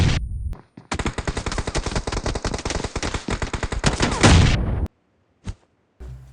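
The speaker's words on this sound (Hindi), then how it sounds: "मैं DBS के फटाफट से 5-10 फटके मारता हूँ जिससे भाई ये जलने जैसी हो जाती है" DBS shotgun fire in the mobile battle royale BGMI: loud, rapid shots fired close together in one long burst lasting several seconds, then a single shot after a brief pause.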